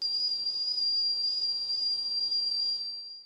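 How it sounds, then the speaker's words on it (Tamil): A pressure cooker steaming idli on a plate lets out one loud, continuous high-pitched steam whistle with a breathy hiss underneath. It holds steady for several seconds and no one speaks. "இப்போ விசில் வந்துடுச்சு, 7 நிமிஷம் ஆயிடுச்சுங்க."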